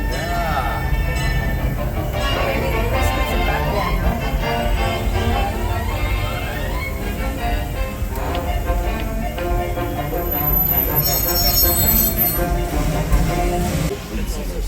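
The Disneyland Railroad train rolls steadily along its track with a constant rumble and high metallic wheel squeals rising over it, while people talk nearby throughout.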